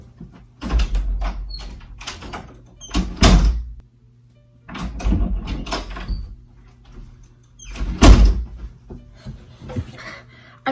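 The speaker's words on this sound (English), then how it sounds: "I wish you could see me actually like fall on the door." A person stumbles and falls against a bathroom door, giving several heavy thuds and rattles in irregular bursts, close and fairly loud, separated by quiet pauses.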